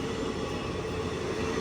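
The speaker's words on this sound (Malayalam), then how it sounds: "ഏറനാട് എക്സ്പ്രസ് ഇതാ പ്ലാറ്റ്ഫോം നമ്പർ 2 കടന്നു വരികയാണ്." Ernad Express rolling in at platform 2, a continuous low rumble and wheel noise from the moving train at moderate level, no voices.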